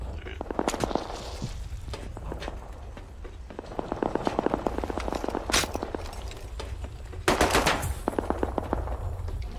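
Automatic gunfire rattles in rapid bursts during a multiplayer survival game, several strings of sharp shots at close to medium range, with footsteps and a louder final volley.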